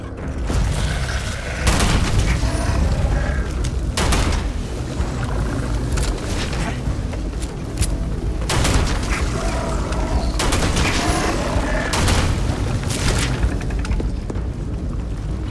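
Gunfire in the sci-fi video game Starfield: loud shots crack out in irregular bursts, each one a sharp booming blast, continuing steadily throughout.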